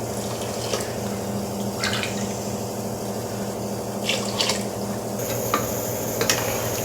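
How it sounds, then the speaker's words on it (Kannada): Water poured into a pot of washed rice for a simple home-style pulao, a steady splashing, gurgling fill with a few sharper drip-like spikes, close and continuous with no talking. "ನೋಡಿ ಇವಾಗ ನೀರು ಹಾಕ್ತದನಿ."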